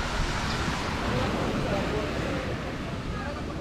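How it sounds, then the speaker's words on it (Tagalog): Ocean waves wash onto the beach at Puerto Galera with a steady, broad surf roar and some wind buffeting, continuous and fairly near with no clear breaks. "Kaya medyo hindi na gano'ng kalakas yung alon ngayon."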